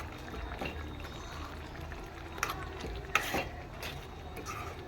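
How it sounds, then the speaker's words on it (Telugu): Fried paneer pieces go into simmering curry and get stirred, giving a soft bubbling, sizzling bed with a couple of brief clinks and splashes, close and moderate in level. "మనం ముందుగా ఫ్రై చేసుకొని పెట్టుకున్న ఈ పన్నీరు పీసెస్ని వేసుకోవాలి వేసుకొని బాగా కలుపుకోవాలి"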